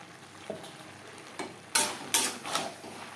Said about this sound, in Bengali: এবার দিয়ে দেবো সেদ্ধ করে রাখা এঁচোড়।